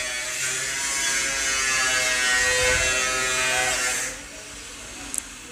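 A sewing machine whirs continuously while stitching a neckline design onto a garment, then stops after about four seconds, leaving a quiet room and a faint click.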